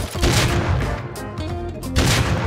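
Gunfire in the survival game Rust during a fight at the Large Rig, a burst of loud booming shots close together near the start and another toward the end, with a brief voice in between.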